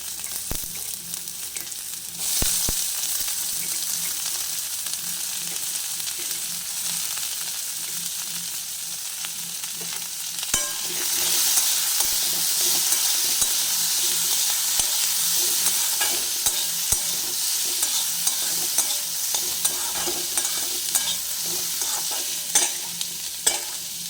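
Carrots for veg chowmein sizzle steadily in a hot pan while a spatula stirs and scrapes through them, with a louder burst of frying midway and occasional sharp clanks of utensil on metal; no talking.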